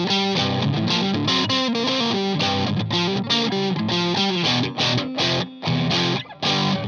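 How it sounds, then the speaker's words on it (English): Electric guitar with Gibson P90 single-coil pickups played through heavy distortion, loud sustained chords and riffs with rhythmic choppy breaks near the end, no talking. "Let's see how this guitar does if we add some distortion."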